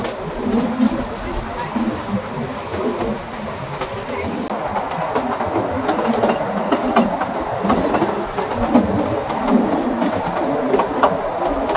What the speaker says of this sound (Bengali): আমরা কালকা থেকে টয় ট্রেনে উঠলাম সিমলা যাওয়ার জন্য।